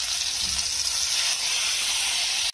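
Grated ginger sizzles in hot oil with fried whole cumin seeds, a loud continuous hiss held close and steady until it cuts off abruptly at the end.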